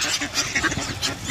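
A brief burst of duck quacking, several rough calls close together from a nearby flock, with gulls mixed in.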